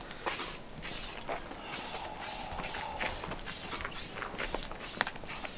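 Maxima SC1 spray cleaner is sprayed onto a Ford F100 prerunner truck in Moab in a series of short, hissing bursts with brief pauses between them, close to the nozzle, and no talk.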